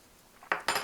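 Two sharp metallic scrapes of a utensil against a pot, clearing off broth from potato soup, rising from quiet at close range with no talking.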